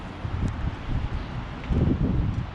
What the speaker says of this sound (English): It's gotten windy out here.